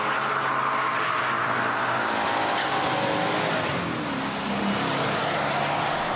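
A Maserati 3200 GT being driven on the road: a steady, continuous engine note under road and wind noise, loud and sustained throughout with no talking.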